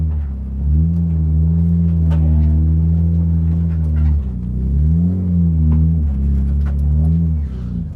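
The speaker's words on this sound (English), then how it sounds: "I'm gonna back it into our bay" A car idles and revs steadily in the pit area at Donington while reversing into its bay, a loud, close engine drone with two dips in pitch and a brief lift between them, with no voices.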